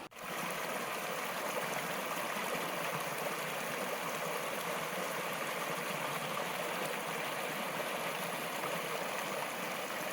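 A continuous rushing wash of a flowing stream fills the whole clip at an even level, with no voices or breaks, on the Santa Ynez Trail.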